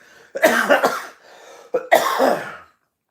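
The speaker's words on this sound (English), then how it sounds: "I'm getting over a cold, so like salty stuff makes me cough" Two bursts of throaty, raspy coughing close up from someone getting over a cold, each several harsh hacks, separated by a short breathy pause.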